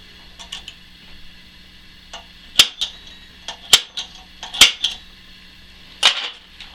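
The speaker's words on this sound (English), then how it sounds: "Center punch." Center punch struck against a steel tube in a workshop, a series of sharp metallic taps, four or five distinct clear strikes spaced irregularly over a faint steady background hum.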